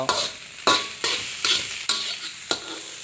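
Rice stir-fried with egg and fermented pork sausage in a pan, with sharp repeated scraping strokes of a spatula about every half second over a hissing sizzle, close and loud, no voices.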